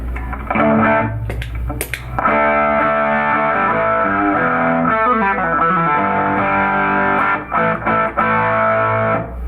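A distorted electric guitar plays chunky rock chords through a Chopper T pickup, loud and continuous with a few brief pauses and scratchy muted strums.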